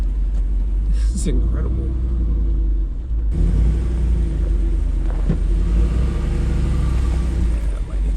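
A Jeep Rubicon 392 engine rumbles low and steady while crawling off-road in four-high, its deep drone swelling briefly partway through as someone speaks a few words over it.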